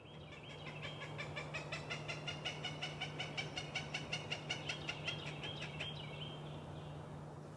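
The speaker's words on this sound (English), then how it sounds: "The alarm call of the female Cooper's hawk alerts us to her presence." A female Cooper's hawk gives its alarm call outdoors in spring, a steady run of about twenty harsh, evenly spaced notes that rises and fades over several seconds against a low constant hum.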